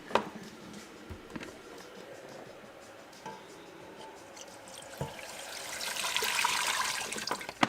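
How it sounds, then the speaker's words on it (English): Hot water runs from a tap at a dental lab bench, a soft steady rush that swells louder toward the end among faint clinks and handling noises. "we got hot water"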